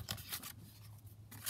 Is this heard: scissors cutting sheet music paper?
yes